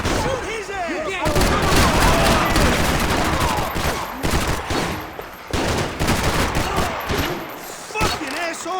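Rapid gunfire in the video game Max Payne 3, dense loud volleys of shots nearly continuous with brief gaps, mixed with shouting voices.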